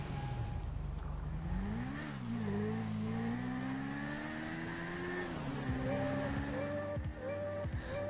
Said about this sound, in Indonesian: Hah, motor baru nih.